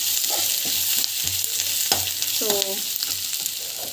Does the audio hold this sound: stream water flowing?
no